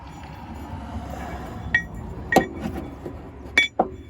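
Metal bolts clink a few times while being handled during work on a transmission bracket of a 2006–2010 PT Cruiser, light bright taps scattered over a low background hum.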